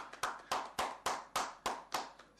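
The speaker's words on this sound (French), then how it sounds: "Vous pouvez applaudir pour ce fameux chercheur." Steady, evenly spaced hand claps, about eight in quick succession, crisp and fairly close, with no voices.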